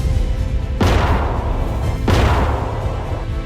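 Two heavy booming cannon shots from Ottoman guns bombarding the walls of Constantinople in 1453, each a sharp loud blast trailing into a long rumbling decay, spaced about a second apart over a steady low rumble.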